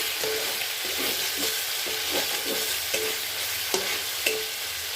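Spice paste sautéing in hot oil, sizzling steadily and close up, with faint scraping taps of a stirring spoon at intervals.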